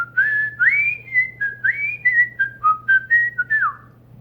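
A single person whistles the Andy Griffith Show theme tune solo, a clear, close melody of sliding, bright notes in a steady phrased rhythm, with no talking.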